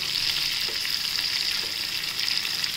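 Bitter gourd pieces fry in hot oil for a traditional panchamrut, producing a continuous bright hiss that holds steady throughout, close and fairly loud, with no voices.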